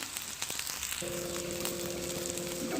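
Vanjiram fish fries in oil in a pan, giving a steady, close crackling sizzle throughout, with a faint tonal hum joining partway through.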